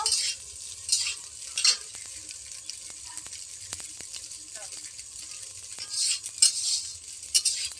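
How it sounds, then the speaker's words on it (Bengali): Eggs fry in hot oil in a kadai for egg rice, a soft steady sizzle broken by scraping stirs and a few light metal clinks of a spatula against the pan. "ডিমগুলো ধীরে ধীরে করে লাল করে ভেজে নিয়েছি, এবারে তুলে নেব।"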